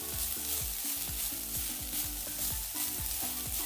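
Crab sukka masala fries with turmeric in a pan, a dense steady sizzle overlaid by rapid rhythmic scraping from constant stirring, close and even throughout without voices.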